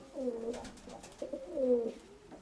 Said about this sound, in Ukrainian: Ну я думаю, що це голубка